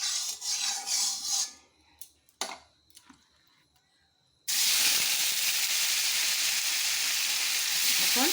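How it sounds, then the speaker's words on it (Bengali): Turmeric- and salt-coated paneer pieces go into a hot kadai. Quiet clinks and clatter come first, then a sudden loud, steady sizzle and hiss of frying that holds to the end. "এখন পনির কটা একটু লাল করে ভেজে নেব।"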